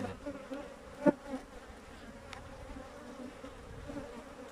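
Honeybees buzzing around an open hive during an inspection for the queen, a continuous low droning swarm hum, fairly close, with a brief knock or bump partway through and no talking.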